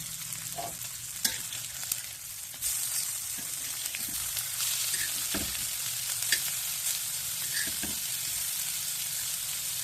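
Rava-coated pomfret fries Goan style in a pan, giving a steady, close sizzle with scattered small crackles and pops and no voices.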